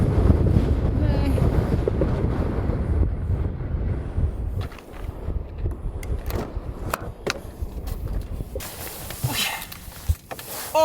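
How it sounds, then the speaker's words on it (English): Strong wind in a snowstorm on Svalbard during polar night buffets the microphone in heavy rumbling gusts, easing slightly partway through, with faint voices underneath. "That was windy. But a little bit of snow."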